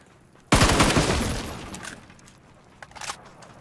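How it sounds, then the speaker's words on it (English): Gunfire in the battle royale shooter PUBG: a loud, sudden burst of rapid shots that decays over about a second, then a second, fainter burst follows, with no voices. "I'm gonna shoot them, dude."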